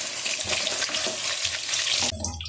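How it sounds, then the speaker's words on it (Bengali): Spice paste frying in hot oil for chicken chaap, a steady loud sizzle and bubbling close up, with a few stirring scrapes, abruptly quieter near the end. "মশলাটা ভালোভাবে কষে গেলে যখন তেল বেরোবে এর থেকে"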